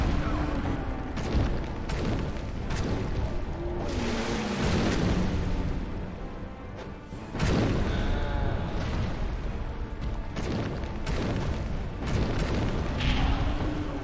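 Fire bomb explosions in a video game fight against a tree creature and the Pursuer, loud booming bursts recurring over a steady rumbling backdrop of game sound, with a few sharp blasts standing out.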